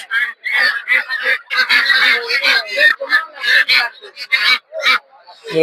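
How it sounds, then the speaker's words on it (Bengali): Belgian ducks at a busy village poultry market honk and quack loudly and almost without pause, close by, in a dense overlapping chorus. "বেলজিয়া হাঁস"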